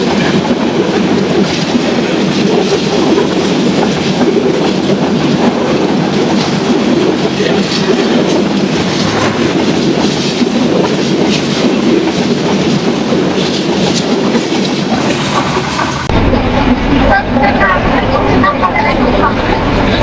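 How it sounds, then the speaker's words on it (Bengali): Banalata Express running on rails toward Ishwardi Bypass railway station, a steady close rumble of wheels with clickety-clack that shifts character near the end. "বনলতা এক্সপ্রেস ট্রেনটি চলে আসলো ঈশ্বরদী বাইপাস রেলওয়ে স্টেশনে"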